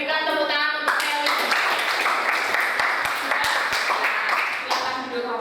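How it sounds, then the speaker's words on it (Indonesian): A classroom audience claps after a poetry presentation, brisk clapping filling most of the stretch while a voice speaks briefly at the start and end. "berikan tepuk tangan untuk Nelly."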